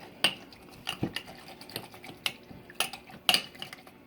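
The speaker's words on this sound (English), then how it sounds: "I'm going to stir this one up." A spoon stirs a mixture of digestive enzymes and bile in a container, giving sharp, irregular metallic clinks and scrapes spaced by quiet gaps.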